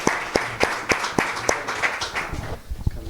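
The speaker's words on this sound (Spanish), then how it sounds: "Un aplauso para José María" Audience applause at a startup pitch session, a burst of claps from a seated crowd that thins out and fades within a few seconds, with a few scattered claps near the end.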